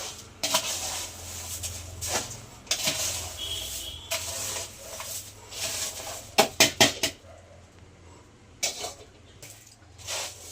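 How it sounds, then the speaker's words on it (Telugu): Spiced puffed rice snack being tossed and mixed in a metal vessel, giving rustling stirs and scrapes, a brief cluster of sharp clinks near the middle and a few later knocks, close by with no speech. "ఇప్పుడు ఇవంతా కూడా మనం మొత్తం మిక్స్ చేసేసుకోవాలి"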